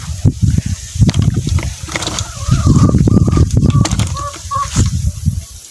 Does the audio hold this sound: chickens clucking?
yes